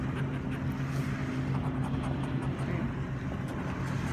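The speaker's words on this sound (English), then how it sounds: "a boat that just rolled by" Boat passing on the water near a beach pavilion, a low continuous engine drone with a faint rumbling hum, fairly distant and steady throughout, with light outdoor background noise.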